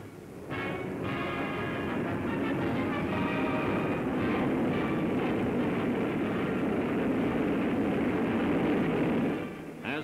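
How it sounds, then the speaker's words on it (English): A formation of WWII bombers returns from a raid, a loud, sustained roar of piston aircraft engines that swells in quickly and holds steady before cutting off, with no voices. "bombers returned from the latest raid"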